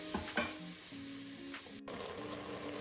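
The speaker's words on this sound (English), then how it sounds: "now we're adding the ground meat to it, and there might be the need for some extra oil" Ground meat frying in olive oil for a Bolognese sauce, a loud steady close sizzle with a couple of spatula scrapes early on and a brief dropout partway through, no voices.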